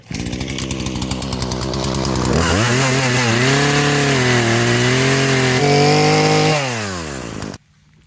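Chainsaw revving and biting through a red maple log about six inches thick, the engine note dropping under load as it cuts, then rising and cutting off abruptly.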